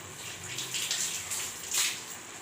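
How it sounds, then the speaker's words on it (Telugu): Water poured into a simmering chicken curry gravy in a pot, making a steady splashing, filling pour with a brief louder gush near the end, fairly faint and without talk. "కన్సిస్టెన్సీని బట్టి మనం వాటర్ వేసుకుంటే సరిపోతుంది."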